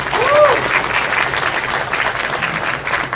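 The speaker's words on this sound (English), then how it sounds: "let's give a round of applause for all of them" Audience applause for seminary faculty at a greeting event, brisk, full clapping from a gathered crowd, fairly loud and steady with a faint tone chirping briefly at the start.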